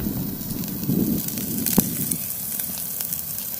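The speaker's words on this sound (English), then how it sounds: "Steaks are cooking." Steak cooking on a homemade DIY firebox camp stove outdoors, a steady close crackling sizzle mixed with fire roar and one sharp pop, no speech.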